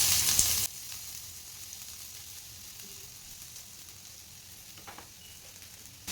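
Finely chopped onion hits hot oil in a pan for prawn fry, a loud initial sizzle dropping after a moment to a steady, softer frying crackle, close and without talk.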